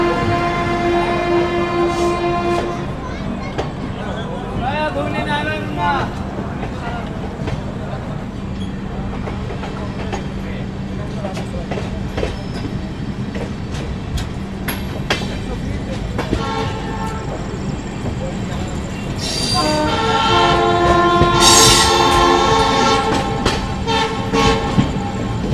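Inside a long-distance passenger train travelling from Kolkata toward Kamakhya, the coach gives a steady rolling rumble, with horn toots now and then and faint voices nearby.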